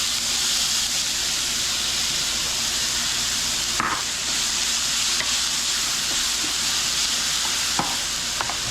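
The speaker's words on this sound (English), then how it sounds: "A little bit of oil, and there goes the hash browns." Hash browns frying in a little oil in a pan, a loud continuous sizzle and crackle held steady throughout, with a few soft clicks of utensils, no talking.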